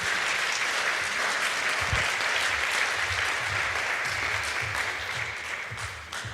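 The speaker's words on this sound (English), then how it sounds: "Please give a round of applause to Dr." An audience at the TransVision Madrid 2025 summit applauds as Dr. Aubrey de Grey is welcomed to give a talk on rejuvenation research; dense, sustained clapping from a large room that fades slightly at the end.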